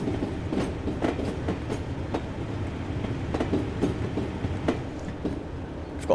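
A Class 97 locomotive hauls a Mark 1 railtour rake on the line from Norwich toward Lowestoft, heard from on board as a steady rumble with rhythmic clickety-clack of wheels over rail joints.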